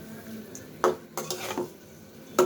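Hilsa fish pieces being stirred and fried in a pan: a low sizzle broken by several distinct spatula scrapes and clinks against the pan, close and uneven.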